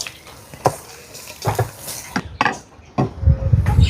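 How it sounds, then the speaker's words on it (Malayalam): Carrot halwa being stirred in a pan, with repeated scraping and knocking strokes of a spoon against the metal in an uneven rhythm, close and fairly loud, with a soft wet sound and no talking. "ഇനി നമുക്കിതാ ഒന്നും കൂടി നന്നായിട്ടൊന്ന് ഇളക്കി കൊടുക്കാം."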